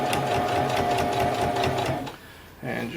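A sewing machine runs steadily, stitching a seam in underquilt fabric from a kit, a close whirring drone that breaks off briefly near the end and then restarts.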